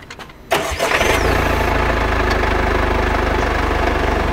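A Mercedes four-cylinder engine in a 2022 Carthago Chic E-Line motorhome cranks briefly, catches and settles into a steady, even idle with a low rhythmic throb, close by and with no talk.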